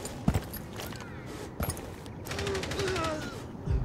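Automatic machine gun fire in Rainbow Six Siege, a few sharp shots early, then a rapid sustained burst of repeated reports with a mechanical rattle, moderately loud and close.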